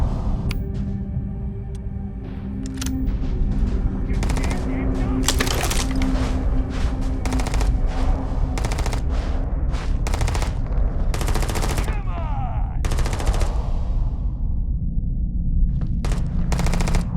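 Sustained automatic gunfire rattles through a firefight against pirates in the space game Starfield, sharp bursts repeating loudly over a steady mechanical hum for a long stretch, no one speaking.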